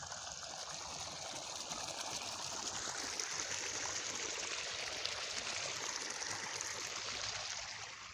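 Water from a solar-powered bore well flows in a steady, faint, continuous rushing stream, with no talk, in a quiet morning outdoor setting.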